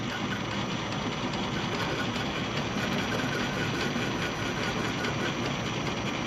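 A Logan lathe runs with a carbide-tipped tool taking a light scrape pass, producing a loud, continuous mechanical whir and hum with fine, even chatter throughout and no pauses.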